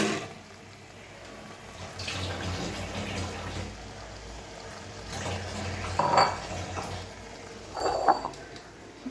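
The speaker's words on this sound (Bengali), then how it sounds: "গামলাটা ধুয়ে দিচ্ছি একটু জল।" A bowl is rinsed under a running tap in a home kitchen, soft water flow with a couple of brief clinks of the dish near the end, fairly quiet and without speech.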